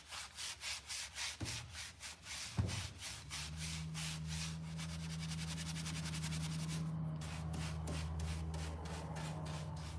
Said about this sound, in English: I'm gonna take my brush, again, I'm gonna run across its top underneath